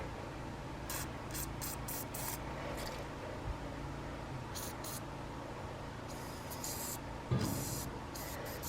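Several short hissing bursts of lubricant spray in quick succession, then a pause and more brief sprays, soft and close, with a small knock near the end, on a computer mouse's sticky buttons.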